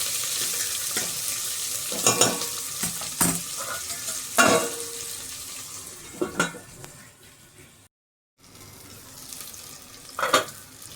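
Chicken pieces with green chilli cooking in a pan for chicken fry piece biryani, a steady close sizzle broken by several sharp scraping stirs and clinks, with a brief silent gap midway.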